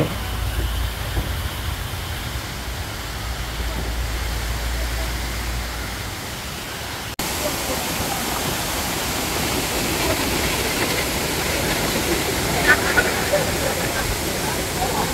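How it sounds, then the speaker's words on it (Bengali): The Kanching waterfall in a Malaysian forest park sends down a constant broad roar of water, close and full. A low rumble fades out in the first seconds, and the rush grows brighter after an abrupt cut midway. "এই হলো কাঞ্চন ওয়াটারফল। অনেক উপর থেকে জল নেমে আসতেছে"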